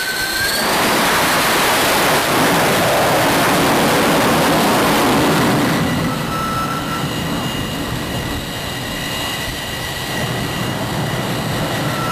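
Jet aircraft recovering onto the deck of the carrier USS Forrestal (CV-59): a loud, sustained roar with broad rushing noise and whining tones, easing slightly partway through, no talk.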